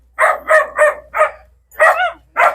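Dogs bark at a rural relocation site, a close, loud run of six sharp barks in two quick bursts separated by a short pause.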